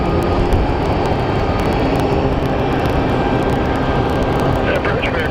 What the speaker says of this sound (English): up next on our arrival is a United Airlines 737-800 series